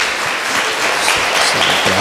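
A church congregation claps in praise to God during a Kannada sermon, a dense, steady burst of many hands that holds at even loudness for a couple of seconds.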